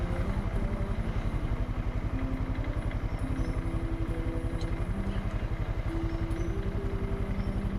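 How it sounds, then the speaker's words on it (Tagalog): Motorcycle engine labouring on an uphill road, a loud close rapid thumping idle-like pulse that holds steady throughout with faint rising whine tones, the bike struggling and failing to climb. "Grabe, hindi makaahon yung motor."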